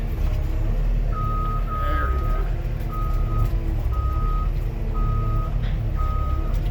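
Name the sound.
reversing beeper on a tractor or truck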